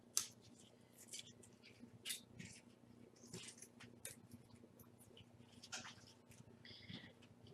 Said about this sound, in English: Cut at an angle from the folded edge to the outer edge.